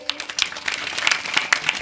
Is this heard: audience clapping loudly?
yes